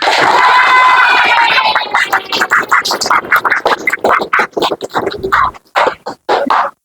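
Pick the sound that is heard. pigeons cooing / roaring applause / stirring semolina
roaring applause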